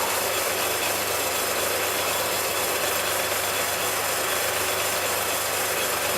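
A steady, loud, high-pitched grinding whine of a drill boring into metal for a model steam tram, continuous throughout with no voices.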